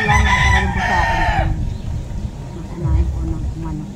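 A rooster gives one loud, close crow lasting about a second and a half, with rich harmonic tones, followed by quieter background murmur and rustling.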